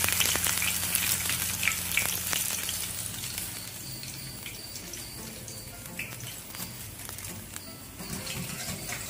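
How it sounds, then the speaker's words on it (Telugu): Green chillies and curry leaves fry in hot oil with a bright, crackling sizzle that is loudest at first and then settles into a softer, steady hiss. "చేసిన పచ్చిమిర్చి, కొద్దిగా కరివేపాకు వేసుకుని ఇలా వేడి నూనెలో వేయించుకుంటే"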